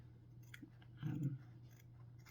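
Quiet snipping from scissors cutting heavy batting or felt: a few soft, crunchy cuts, the strongest in the middle, over a low steady hum, with no talking.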